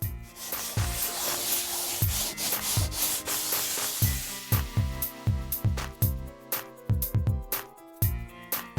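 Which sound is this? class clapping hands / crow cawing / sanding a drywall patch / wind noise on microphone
sanding a drywall patch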